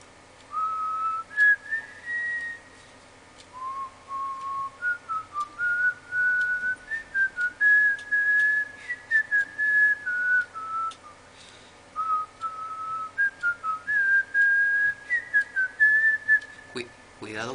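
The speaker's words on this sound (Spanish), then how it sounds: "Yo voy a ir silbando para que me puedas ver por dónde voy" A person whistles a wandering melody, steady and clear for the whole stretch, in short phrases with brief gaps, close by and alone with no talk over it.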